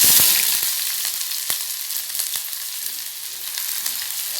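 Garlic and onion sizzle steadily in a frying pan on a home stove, a dense, even crackle broken by a few sharp pops near the start and in the middle, with no voices.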